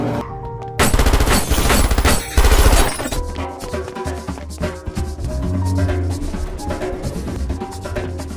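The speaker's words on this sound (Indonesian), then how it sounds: "Vinod malah harus baku tembak dengan anak buahnya si kolonel." Gunfire in a film shootout between an agent and a colonel's henchmen: dense, loud bursts of rapid shots and impacts in the opening seconds, then fading into a sustained music score with scattered hits.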